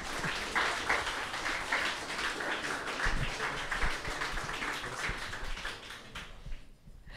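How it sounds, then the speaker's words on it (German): Applause from the audience at a youth hackathon final presentation in Cologne, a fairly quiet, continuous patter of many hands clapping that thins out and fades near the end. "Applaus."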